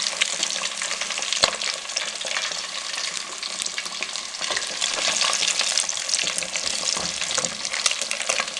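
Fish frying in a pan, a steady dense sizzle of hot oil with crackling pops throughout and no voices, loud and close the whole time.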